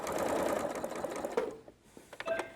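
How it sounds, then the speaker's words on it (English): A sewing machine stitches binding onto a table runner, running fast and steadily for about a second and a half before it stops. A few soft clicks of fabric handling follow, and no voice is heard. "Now I'm going to sew to the pin that I inserted at the beginning, and then I'm going to stop sewing when I get to there."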